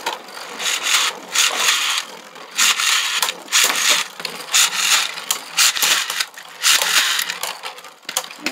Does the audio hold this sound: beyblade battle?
yes